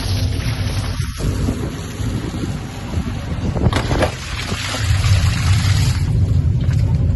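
Water gushing from the loose tap of a water tank, a loud, steady rushing and splashing close by that surges briefly midway, with no talking.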